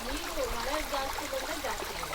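Water streaming out from inside a cave in hilly countryside near Halebidu, Hassan, a steady continuous rush with a faint voice-like warble over it.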